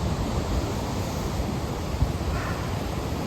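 Wind blowing outdoors at night, a steady, even rushing noise with no voices.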